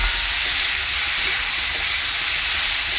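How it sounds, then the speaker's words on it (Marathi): Onion frying in oil in a kadai on high flame makes a continuous, even, loud hiss and sizzle that holds steady throughout without breaks. "आणि कांदा तेलामध्ये छान परतून घ्यायचा आहे"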